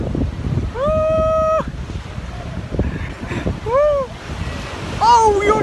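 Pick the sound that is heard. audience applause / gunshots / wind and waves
wind and waves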